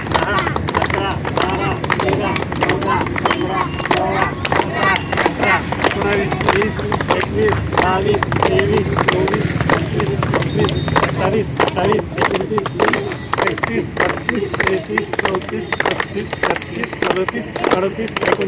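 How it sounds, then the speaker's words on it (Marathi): A crowd claps in unison at a birthday celebration for Adv. Nitin Khare in Bhusawal, a long run of loud, sharp, evenly spaced claps going on throughout, with voices faintly beneath. "अठ्ठावन्न टाळ्या वाजवून खरे साहेबांचा आज वाढदिवस साजरा झालेला आहे"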